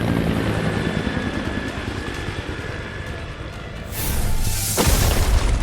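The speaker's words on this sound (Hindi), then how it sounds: "फिर वहाँ से गुल्ली, बुल्ली और शॉन हेलीकॉप्टर स्टार्ट करके वहाँ से भाग जाते हैं।" A cartoon helicopter starts up and flies off, a dense, loud rotor chop and engine roar that surges and swells toward the end, heavy rumble throughout with no talking.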